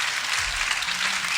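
Loud, dense audience applause, a thick wash of many hands clapping at once, heard close and alone.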